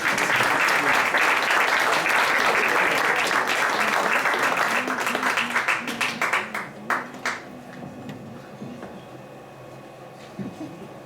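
A French cabaret audience applauds a singer, loud dense clapping that holds for several seconds and then breaks into scattered individual claps before fading out.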